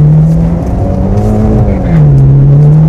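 A Mitsubishi Evo X slides sideways in oversteer while ESP steps in, its engine droning loud and close with a steady hum that dips and rises as the revs shift, with tire noise beneath and no talk.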